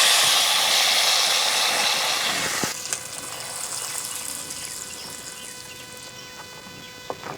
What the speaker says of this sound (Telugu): తాలింపు మెదుపుకున్న పప్పులో వేసుకుంటున్నాను